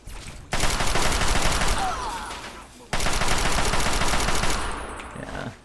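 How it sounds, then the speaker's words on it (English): Chinese assault rifle fired in the video game Fallout 3, two long sustained automatic bursts separated by a short pause, loud and close with no talk over them. "the Chinese assault rifle will take care of the rest of them"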